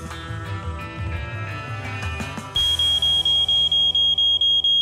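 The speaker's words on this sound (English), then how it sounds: "Code 16, malfunctioning smoke detector." A defective smoke detector goes off after a stretch of music, repeating loud, piercing high beeps in a steady, even rhythm that continue alone to the end.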